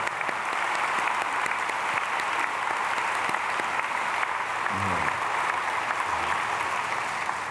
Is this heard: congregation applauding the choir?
yes